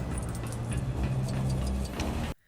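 Stud pickups in a LEGO video game come as a rapid flurry of bright, jingly metallic clinks over a dense, rumbling game soundscape. The sound stays loud and continuous, then cuts off abruptly at the end.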